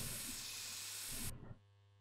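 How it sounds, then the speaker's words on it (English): Mosquito repellent spray hisses from an aerosol can in the video game My Summer Car, one steady bright burst of about a second and a half that cuts off abruptly, close and loud, with a low engine-like hum beneath. "Can't hurt to hit myself with some mosquito spray"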